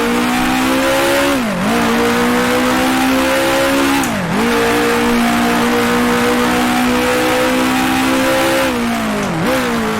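A 1966 Lotus Formula One car in a Monaco Grand Prix racing game, its engine holding a loud, steady high-revving drone, dipping briefly during gear changes or braking three times before climbing back up, close and continuous with no talk.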